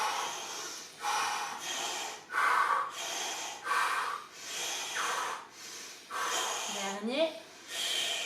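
Forceful rhythmic Iceman-style breathing during yoga leg beats, about eight sharp nasal breath bursts evenly spaced around a second apart, close and loud, with a brief spoken cue near the end.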